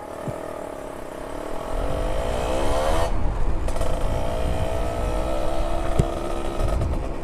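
Kawasaki Ninja RR two-stroke motorcycle engine while riding, a steady droning whine that rises in pitch, drops briefly at a gear change, then climbs again, with wind rush throughout.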